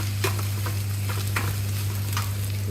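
Onion sizzles and fries in a hot pan with garlic and cumin, a continuous crackling hiss broken by occasional stirring scrapes, close up with no talking.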